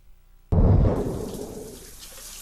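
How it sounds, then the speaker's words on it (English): A shower suddenly starts running in a TV sitcom scene, a dense hiss of falling water that stays loud and then slowly eases. "I'm in the shower."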